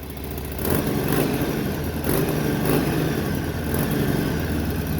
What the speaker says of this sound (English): Sounds like a Harley.